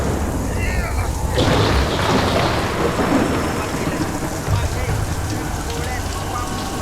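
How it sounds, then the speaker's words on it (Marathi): Loud, rolling thunder rumbles over a constant downpour of heavy rain. It sounds close and fills the whole scene. "अचानक ढगांचा गडगडाट झाला."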